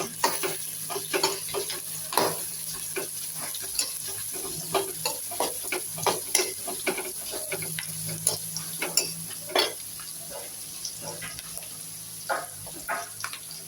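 Dried red chillies and a pinch of cumin seeds sauté in hot oil as a lentil sambar tempering begins, with steady soft sizzling and frequent close spoon scrapes and taps against the pan, no voices.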